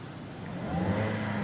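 A car engine rises in pitch as a learner driver gently presses the gas on a public road, a steady close hum that swells slightly louder partway through.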